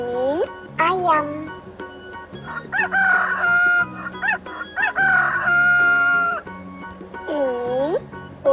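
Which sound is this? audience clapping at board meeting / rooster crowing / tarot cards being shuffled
rooster crowing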